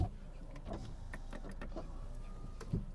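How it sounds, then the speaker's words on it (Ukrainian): Electric power windows whirring in a Volkswagen Touran, a soft motor hum running in the background with a few faint clicks and knocks over three seconds, quiet and near. "склопідйомники"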